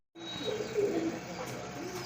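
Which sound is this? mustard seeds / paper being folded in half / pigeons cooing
pigeons cooing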